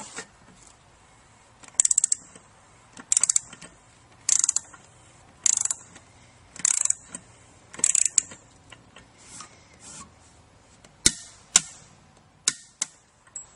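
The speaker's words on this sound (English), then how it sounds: "And we'll tighten this down by hand first, and then we'll torque it down." Metal clicks of a tool tightening and torquing down the shaft seal on a small Grundfos CR pump during repair, a series of sharp, close ticks spaced about a second apart, then a few louder isolated clacks.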